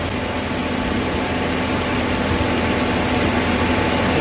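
Ventilation fan in an Audi blowing hard in a workshop: a loud, steady, broadband rushing roar that stays constant throughout with no pauses.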